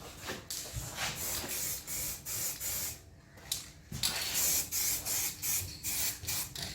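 A spray gun lays a first coat of paint on a Chrysler Valiant, mainly the timing cover, in repeated short hissing bursts with one brief pause partway, close and steady.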